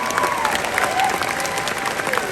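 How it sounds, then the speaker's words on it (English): Convention crowd applauding at a cosplay closing ceremony, a dense steady wash of clapping filling the room with faint cheers mixed in. "Please give yourselves a huge round of applause."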